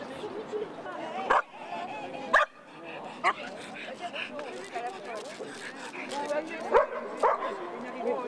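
Puppies at a dog-owners' street event in town yip and bark in short scattered bursts, with some whimpering, close by under steady conversation from several people.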